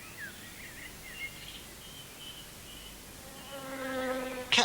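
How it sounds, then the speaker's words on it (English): Insects buzzing in spring warmth: a faint, steady drone runs throughout, swelling into a louder, closer buzz near the end before a brief sharp click. "The warmer weather brings out the insects."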